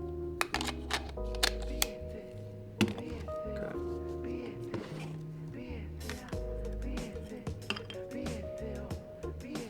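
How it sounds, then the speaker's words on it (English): An EF mount adapter being fitted to a Rokinon prime lens, heard as close, small metallic clicks, taps and scraping handling noises in irregular bursts. "I'm gonna put this mount onto the lens itself first, and then go from there and mount it to the camera."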